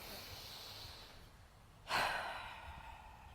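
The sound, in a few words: deep breathing inhales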